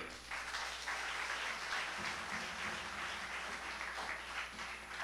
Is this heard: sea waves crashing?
no